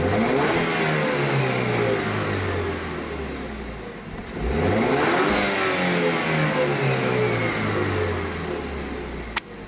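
A 2019 Camaro's engine revs while parked, climbing and falling in pitch, then a second loud rev rising and slowly dropping back, close and strong throughout.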